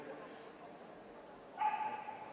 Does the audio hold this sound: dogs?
yes